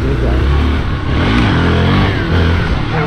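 A Hero Xpulse 4V Pro motorcycle runs loudly while being ridden, its engine droning and shifting in pitch under strong wind rumble, with no distinct knock standing out.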